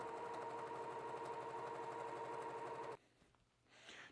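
A sewing machine stitching quilt block pieces in one rapid, steady run, loud and close with a fast even rhythm, then stopping abruptly into quiet room sound with faint handling.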